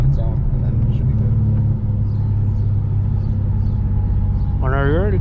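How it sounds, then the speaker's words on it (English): A Nismo 370Z, freshly retuned, rumbles steadily with a deep, close engine drone that dips briefly, then swells into a quick rising rev near the end; a voice talks faintly over it. "Now you're going with 2500, redline it, shift it, and then just let it cruise there for a bit, and then let it decel on its own"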